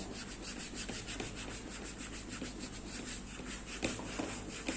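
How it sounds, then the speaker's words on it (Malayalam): Steady, faint rubbing strokes as a dusty bag is polished by hand, a continuous close scratchy friction with soft repeated passes and no talk. "ഞാനൊന്ന് പോളിഷ് ചെയ്ത് കാണിക്കാം"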